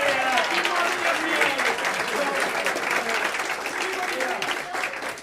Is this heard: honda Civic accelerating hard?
no